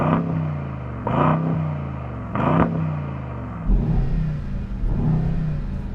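A Brabus 900 Rocket R at a drag race, its engine revving in three loud, close bursts that each rise and fall back, then settling into a steady, strong idle rumble.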